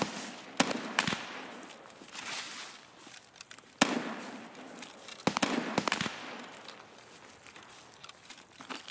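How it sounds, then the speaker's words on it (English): Gunfire in the video game Escape From Tarkov, a handful of sharp distant reports scattered unevenly over a rustling background, with two or three louder cracks standing out and no talk. "Shots going on."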